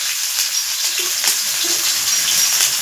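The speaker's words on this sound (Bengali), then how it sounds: "পেঁয়াজটা লাল করে ভেজে নিব।" Chopped onions and black cumin seeds frying in hot oil in a wok, a loud, dense and steady sizzle with no voices over it.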